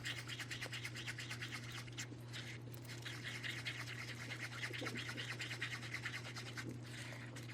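Yellow epoxy resin being stirred in a cup, a steady close scraping and swishing that runs without a break over a constant low hum.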